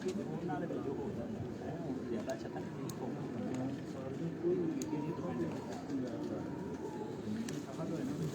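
Soft, steady cooing from golden pigeons, low and continuous beneath a voice, with faint clicks and rustles scattered throughout.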